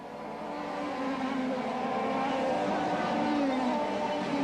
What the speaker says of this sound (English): He can afford to ease off these little 135cc engines, of course.